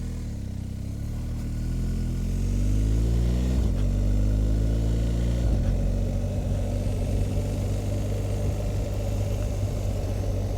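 A 2023 BMW 1250 GS motorcycle pulls away from a traffic light, its engine note rising through the gears in steady climbs before settling into a loud, even rumble with wind, close to the rider and without talk.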